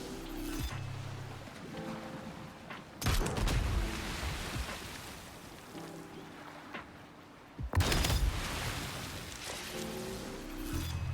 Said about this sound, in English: So we'll just use these heavy cannons to fix that problem.